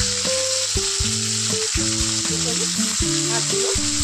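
Pieces of rohu fish rubbed with salt and turmeric fry in hot oil, producing a loud, constant sizzle with light spattering, while a melodic tune plays underneath.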